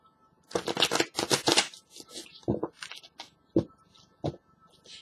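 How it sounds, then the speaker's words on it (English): Tarot cards being shuffled by hand: a few quick riffling bursts close up, then scattered softer taps and card slides in an otherwise quiet room. "So I'm just going to do the shuffling really, really well until the guys tell me to stop"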